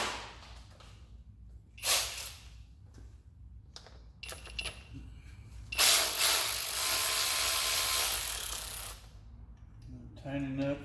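A ratchet wrench works on the engine of a Ford F-150 truck with a 3.5 EcoBoost, giving bursts of rapid metallic clicking, one brief and one sustained for several seconds, close up with gaps of quiet between.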